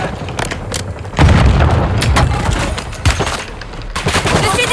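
Loud Call of Duty gunfire with dense automatic bursts and heavy booming shots that repeat close together throughout.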